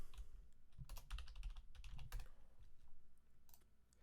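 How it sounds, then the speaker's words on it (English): Quick bursts of typing on a computer keyboard, close and fairly quiet, with uneven clusters of keystrokes and short pauses between them. "I got to type Anderson."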